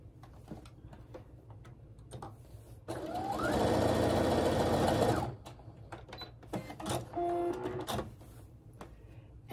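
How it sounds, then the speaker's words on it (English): A sewing machine runs a quilt seam in one steady, loud mechanical whirr lasting a couple of seconds, framed before and after by scattered clicks and handling of fabric. "I'm gonna line up the bottom and the side this time, and I'm just gonna sew right up this line"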